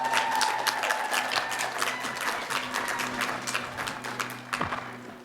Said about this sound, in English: Please give a round of applause for Joey Segilia and Isaac Donabedian.